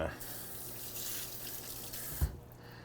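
Tap water runs steadily over yellow squash being rinsed in a kitchen sink, a soft continuous splashing stream with a brief knock near the end before the flow cuts off.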